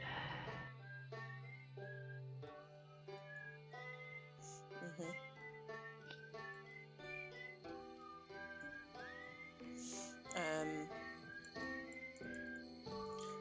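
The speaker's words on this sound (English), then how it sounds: "I'm just gonna skip this whistling music." A cheerful whistled melody with bright, sliding notes over light backing music, played continuously at a moderate level.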